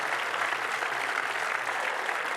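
An audience at an international fair play award ceremony applauds steadily, a dense even wash of clapping held at constant level throughout.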